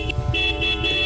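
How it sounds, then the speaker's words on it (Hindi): A motorcycle horn honks steadily in front of a house gate, one sustained tone through the whole moment with a faint low engine rumble beneath. "कौन है वो बुलेट पे आकर हमारे गेट के सामने हॉर्न बजा रहा है?"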